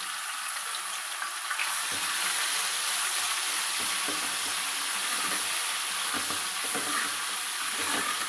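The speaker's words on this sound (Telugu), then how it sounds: "అవి కూడా అట్లా వేగినాక ఫ్రెష్గా దంచుకున్న అల్లం వెల్లిపాయ పేస్ట్" Freshly pounded ginger-garlic paste fries in a pan, giving a steady, bright, close sizzle throughout with occasional stirring scrapes and no voices.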